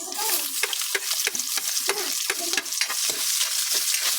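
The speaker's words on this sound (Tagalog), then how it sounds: "Yan, pwede na natin ilagay ang ating sibuyas." Onions hit hot oil for adobong pusit with coconut milk, sizzling loudly and close while a spoon scrapes and stirs in quick, busy strokes throughout.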